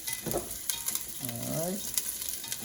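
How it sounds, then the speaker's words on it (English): Carrots sizzling and frying in a pan as they are stirred, with a steady bright crackle and soft scraping strokes, close and alone. "So we'll soften those carrots up for a minute or so. Just give that a quick stir."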